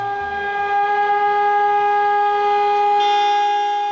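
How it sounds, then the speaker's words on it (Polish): Sirens sound over Warsaw for the citywide minute of remembrance, a loud, steady, sustained wail holding one pitch throughout with no pause. "Syreny, dzwony, klaksony aut."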